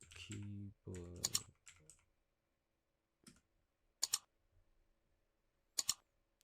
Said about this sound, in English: Let's go search for keyboard.